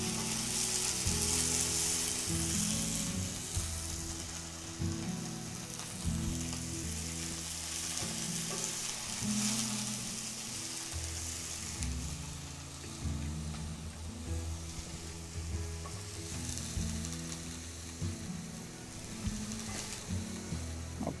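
Onions sizzle steadily in olive oil in a pan, a close, continuous frying crackle with occasional stirring scrapes, heard alone without talk.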